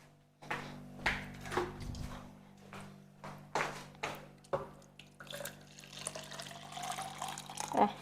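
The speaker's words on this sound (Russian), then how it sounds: "Сейчас еще водичку." Water is poured into a tomato sauce in a home kitchen, producing soft splashing and watery pulses at an uneven rhythm, close and quiet, with a brief trickle near the end.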